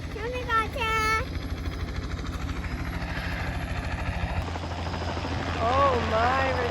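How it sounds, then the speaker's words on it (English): Steady low rotor drone of a helicopter throughout, with a child's and adult's voices talking over it. "Look at the helicopter."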